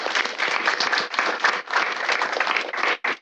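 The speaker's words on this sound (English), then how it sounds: "we got to clap to get as loud as we can to get Brian to try this out" A theater-games workshop audience claps and cheers as loudly as it can, a dense, sustained wash of applause that rolls on continuously, dips briefly near the end, then surges again.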